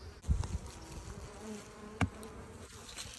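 Honeybees buzzing at a hive during winter fondant feeding, a close continuous hum with a couple of brief knocks, no talking.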